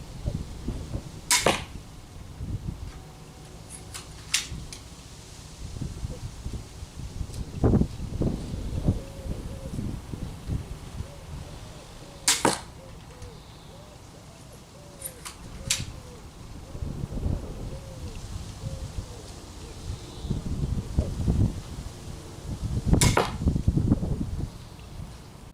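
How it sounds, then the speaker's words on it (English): A pistol crossbow shoots bolts into a target boss at range: several sharp snapping releases and thuds spread across the stretch, separated by quiet outdoor rustling and faint movement. "show you what the pistol crossbow does at this range."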